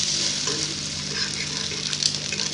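Bread slices for masala toast fry in a pan with a loud, even sizzle, a steady dense hiss with faint crackles over a low hum, close by and uninterrupted, with no voices.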